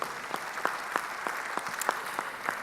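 An audience at a pharmacy conference applauds colleagues. The moderate, even clapping has a few distinct rhythmic claps standing out at regular intervals.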